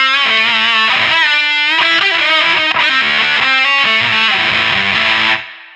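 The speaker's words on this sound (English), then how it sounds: "we almost get this really thin, kind of out of phase fuzz sound" Electric guitar through a JPTR FX Warlow fuzz pedal plays a phrase of sustained notes with a thin, hollow, out-of-phase buzzing tone, loud and continuous, ending with a quick fade.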